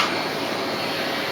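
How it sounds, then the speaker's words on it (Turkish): A household vacuum cleaner runs steadily as a child pushes it around the house, giving a continuous close whine with a constant airflow hiss throughout. "Evi süpürmeyi çok sever Kuzey"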